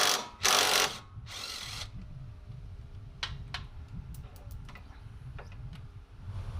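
An electric impact wrench removes a 17 mm nut from a sway bar end link on a Nissan 350Z or G35: two loud, sustained bursts of whirring hammering, then quieter ratcheting clicks and metallic ticks over a low hum.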